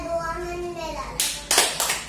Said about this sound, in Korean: 이럴 때 박수 쳐주는 거죠?